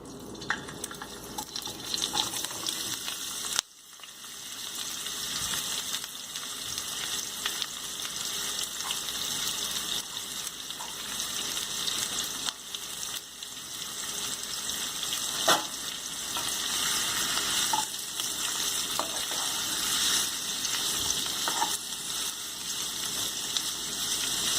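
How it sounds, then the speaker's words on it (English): Mixed vegetables fry in hot oil with a loud, continuous hiss and crackle that runs nearly half a minute, briefly dipping once early on, with occasional stirring knocks and no voices. "we will fry these vegetables"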